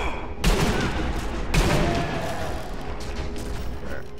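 Rifle gunshots in Sniper Elite V2 co-op, two loud sharp reports about a second apart amid a church firefight, followed by sustained rumbling battle noise.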